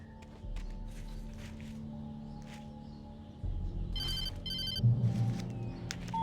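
A telephone rings in the video game Alan Wake Remastered, a bright electronic trill sounding twice midway over a low ambient game backdrop with soft movement noises.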